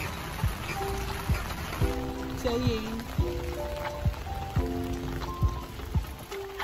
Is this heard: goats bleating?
no